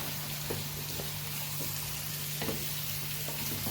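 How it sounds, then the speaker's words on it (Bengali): Cubed pumpkin sizzles loudly as it hits hot oil and spices in a pan, with a steady frying hiss throughout and a few faint stirring knocks, no voices. "এবার এর ভিতরে আমি কুমড়োটা ঢেলে দেবো"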